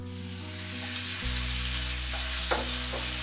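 Beef sears in a hot sauté pan over high heat after garlic and ginger, a continuous loud sizzle with a sudden surge as the meat lands and a few scraping stirs, no voices.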